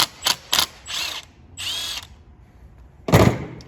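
Power tool loosening an 11 mm bolt on a turbocharger being fitted to a BMW E30 325: several short whirring bursts, then two longer sustained runs and a loud final jolt, close by with no talk.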